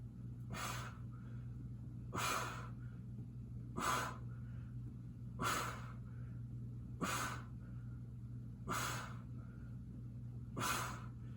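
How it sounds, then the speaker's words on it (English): Steady, regular breaths pushed out during a low back exercise, seven even exhales spaced about every one and a half seconds, close and clear over a low steady hum. "Exhale on the way up."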